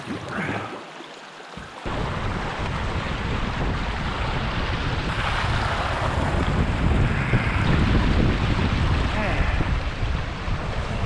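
A cold north wind blows on a cloudy spring day in Algonquin, buffeting the microphone in a steady, close roar that rises after a brief lull.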